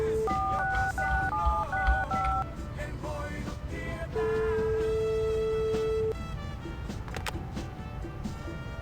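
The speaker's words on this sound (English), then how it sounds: "Can you call with the taxi phone is an interesting thought." Taxi phone in the video game My Winter Car being dialed: a quick run of distinct touch-tone beeps, then a long steady ringback tone, with background game noise and some talk.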